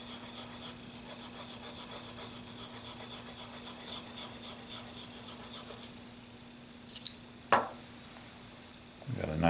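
An A2 steel Blum plane blade is honed on an Arkansas stone, giving close, rhythmic scraping strokes back and forth that ease off into quieter, sparser rubs and a couple of sharp clicks near the end.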